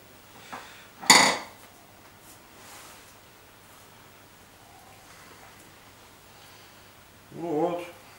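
A Yakut knife of Russian bulat steel slices sausage on a board, giving a sharp cutting knock followed by faint scraping against a quiet room background, with a brief voice near the end.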